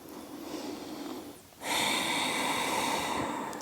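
Slow, gentle exhalation during a yoga posture, a soft close breath with a brief pause and then a longer airy outflow, quiet and unaccompanied by speech.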